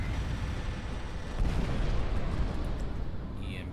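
EMP cannons and a thermal barrage fire in the Final Theory space battle game, a continuous heavy rumble of artillery-like booms with a swell midway, loud and unbroken.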